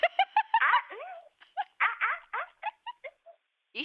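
A person imitates a dog in a quick series of short, high yaps and yips, some clustered tightly and others spaced apart, close and clear with silence between bursts.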